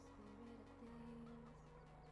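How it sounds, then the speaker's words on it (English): Chickens on a farm in the Farming Simulator 17 video game cluck in a low, steady, droning murmur with a few sustained tonal notes, quiet and continuous with no talk. "I have the chickens too"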